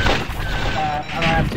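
A quick volley of missiles launches in the space combat game X-Wing vs. TIE Fighter. The sharp, blasting bursts run close and loud for under two seconds over engine and cockpit noise.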